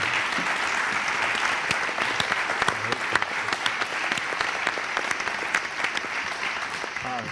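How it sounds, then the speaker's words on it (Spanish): Sustained audience applause fills a Spanish TV interview studio, dense steady clapping from a crowd with a few sharper close claps, running without a break for several seconds. "¡Por favor, un fuerte aplauso!"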